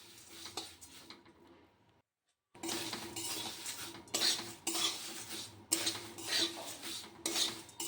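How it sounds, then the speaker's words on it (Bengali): A spoon stirs dry-roasted flattened rice with curry leaves in a pan, giving repeated scraping and rattling strokes, close and fairly quiet, after a brief silent pause. "শুকনো খোলায় ভেজে রাখা চিড়েটা এর মধ্যে দিয়ে এখন মিশিয়ে নিচ্ছি"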